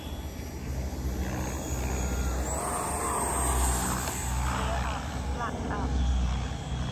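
An FMS Futura RC model jet takes off at an RC airfield, its steady jet whine rising in pitch under full throttle, with a continuous roar throughout and people talking nearby.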